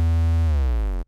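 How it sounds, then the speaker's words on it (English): A single deep 808 bass note in a trap beat, loud and booming, gliding downward in pitch about halfway through before cutting off abruptly after about a second, with no voice. "This is what the first 808 is going to sound like."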